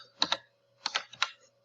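A file name is typed on a computer keyboard in two short bursts of soft key clicks, close and quiet, separated by a pause.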